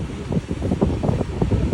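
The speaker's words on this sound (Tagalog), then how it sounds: "Hangin." Gusty wind buffets the microphone in uneven low rumbles, steady and close throughout, with no voices.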